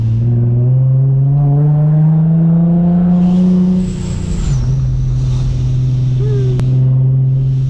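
A supercharged Nissan G35's exhaust drones loudly and up close, its deep tone climbing steadily before dropping sharply as the throttle eases, then settling into a steady rumble.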